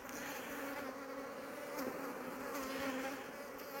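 Honeybees buzz at a beehive that is being readied for winter, a faint but continuous, even droning hum with no voices over it.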